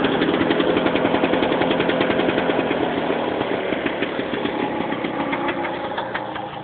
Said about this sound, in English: Just had a bit of a backfire from the condenser.